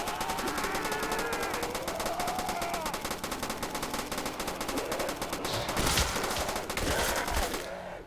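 Rapid sustained gunfire hammers away in Call of Duty: World at War on a custom Minecraft village map, a dense continuous automatic stream with a couple of louder bursts near the end.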